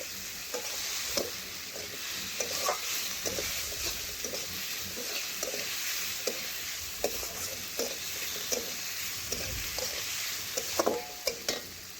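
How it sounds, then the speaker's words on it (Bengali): Spices with a ginger, cumin, garlic and green chili paste sizzle in a pan while being stirred, a continuous frying hiss punctuated by irregular scraping and tapping of the spoon, close and fairly quiet. "ভালোভাবে এখন একসাথে মশলার সাথে কষে নিচ্ছি।"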